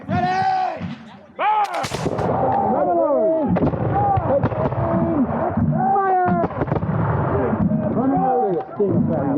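Revolutionary War reenactors at the Battle of Camden fire musket volleys, several sharp loud cracks spread across the clip, interleaved with shouted orders and voices.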